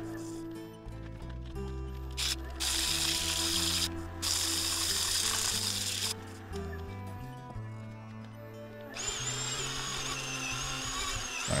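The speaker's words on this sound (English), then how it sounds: "So I will jump across to 40 grit sandpaper." Sandpaper of 40 grit pressed against a spinning claret ash bowl on a wood lathe, a steady loud whirring rasp with shifting pitch as the sandpaper moves, broken by brief pauses where the lathe hum carries on alone.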